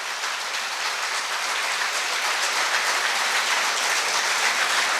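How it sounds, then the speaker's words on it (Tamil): Steady, dense audience applause fills a school Founder's Day function hall, a continuous crackle of many hands clapping without any voices. "கைத்தட்டலை நம்ம கொடுக்கணும்."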